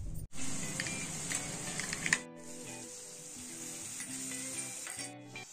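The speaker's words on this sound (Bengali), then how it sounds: "এবার একটি বাটির মধ্যে ধনে গুঁড়ো, জিরে গুঁড়ো এবং লঙ্কা গুঁড়ো গুলিয়ে নিয়ে আমি কড়াইয়ের মধ্যে ঢেলে নাড়িয়ে নেব।" Coriander, cumin and chilli powder paste fries in hot oil in a wok for a meat pitha dish, giving a steady, close sizzle with faint stirring scrapes and clicks throughout.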